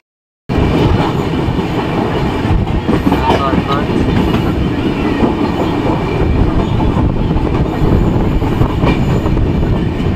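An Indian passenger train bound for NJP runs along steadily, its continuous rumble and rail clatter loud throughout, heard from inside a carriage with people talking faintly beneath.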